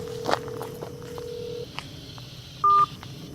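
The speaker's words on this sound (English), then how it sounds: "Making phone calls to Trapper in my pocket." Dialing tones from a phone accidentally pocket-dialed: a long steady tone, then a short louder dual-tone beep near the end, with faint rustling and footstep-like knocks around them.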